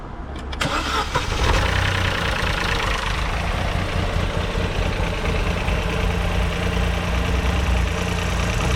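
A Vauxhall Corsa 1.0 Ecoflex engine, freshly rebuilt with new valves, head gasket and timing chain, cranks and fires, then settles into a steady, close, loud idle that runs evenly to the end.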